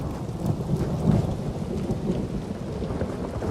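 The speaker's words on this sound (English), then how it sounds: "Let's get in out of the rain, shall we?" Steady rain falls with a low rolling rumble of thunder in a video game scene, a continuous close wash of downpour with no voices.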